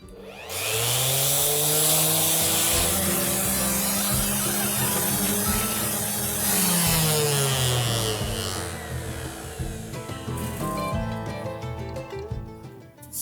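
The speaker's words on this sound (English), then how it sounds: "I'm starting out with the sandpaper that I bought who knows how many years ago from Harbor Freight." Old Harbor Freight sandpaper on a power sander works steadily over wood to remove saw marks. The motor whines continuously and loudly, shifting slightly in pitch, then eases into rougher scratching near the end. No voices.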